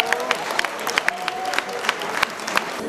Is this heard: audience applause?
yes